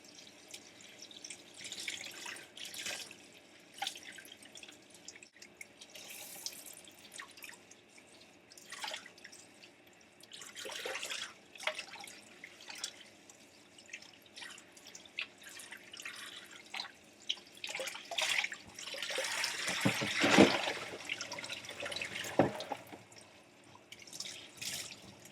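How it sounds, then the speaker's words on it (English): Tap water rinses a wig from the top of the hair down, producing irregular splashing and dripping, mostly soft with a louder gush of running water near the end. "I'm rinsing mainly from the top of the hair because it flows down through the hair."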